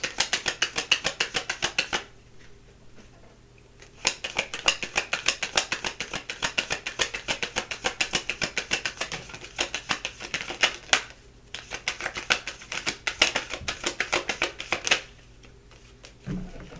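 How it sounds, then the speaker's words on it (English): Playing cards are shuffled and drawn from a deck in quick, crisp riffling clicks that come in several bursts with short pauses between them. "Let me get 3 cards out, please."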